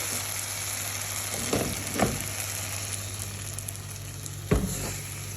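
Ingredients for a chicken curry saute in a pan with a steady close sizzle, punctuated by three distinct stirring scrapes, no talking.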